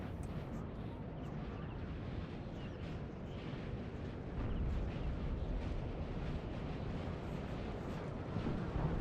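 Dense, rumbling artillery fire rolls through a large Napoleonic battle at Essling in Napoleon Total War 3, with a 4v4 clash of about 15,000 soldiers. The booms blur into a continuous low roar of distant guns, and faint voices sit underneath.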